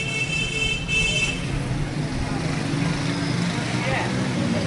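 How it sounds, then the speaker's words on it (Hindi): Car horns toot in busy street traffic in Lahore, with short honks standing out over the steady roar of passing vehicles while people talk nearby. "ये हॉर्न दे रहे थे"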